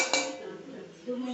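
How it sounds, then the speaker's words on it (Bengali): A metal lid clanks down onto a pot of cooking greens, a single bright clink followed by a soft settling rattle, close and fairly quiet. "এবার একটু ঢাকা দিয়ে দেবো"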